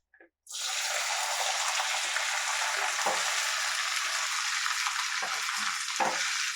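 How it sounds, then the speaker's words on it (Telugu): Cut okra pieces sizzle loudly in hot oil after a short quiet start, a steady close frying hiss with occasional soft stirring knocks. "ఈ బెండకాయ ముక్కలు అనేవి మనకి బాగా ఫ్రై అవ్వాలి"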